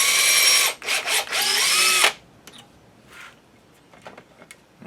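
A power drill boring into walnut wood whirs loudly for about two seconds with brief stops and restarts, then falls quiet apart from faint scraping and clicks.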